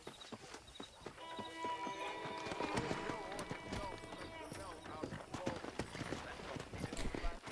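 Horse hooves clip-clop in Red Dead Redemption on Xbox 360 during a horse-wrangling mission, a steady trotting patter mixed with game music and a voice talking over it.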